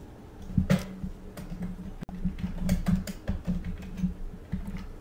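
A project name goes in on a computer keyboard as a quick run of close, irregular key clicks and taps, with a brief gap partway through.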